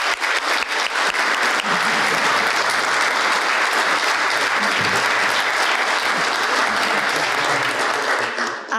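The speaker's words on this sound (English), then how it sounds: "please join me in giving them one more round of applause" An audience at a campus talk gives the speakers a long round of dense applause, loud and steady throughout, with many hands clapping together and fading slightly at the end.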